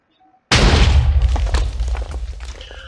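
A grenade in the Minecraft Flans mod explodes with a sudden loud boom that rumbles and decays over a couple of seconds after a brief quiet moment.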